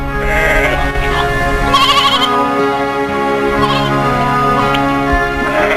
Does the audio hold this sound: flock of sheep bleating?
yes